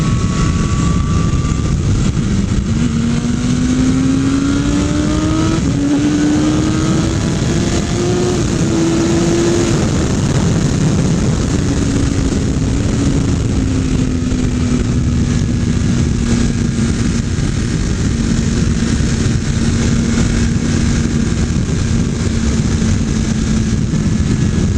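A 2020 BMW S1000RR motorcycle being ridden through a corner, its engine drone rising in steps and then holding a steady pitch beneath heavy, constant wind rush, with no voices.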